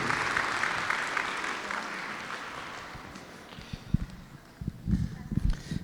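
An audience at a mathematics olympiad award ceremony in a Baku congress hall claps loudly, then the applause thins and fades while scattered footsteps and knocks on stage follow, with some talk underneath.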